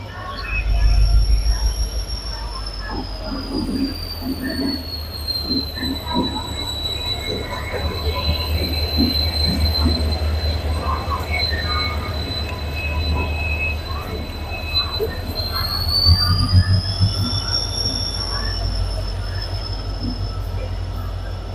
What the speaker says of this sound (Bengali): ট্রেন এসে গেছে, আমাদের কোচ M2।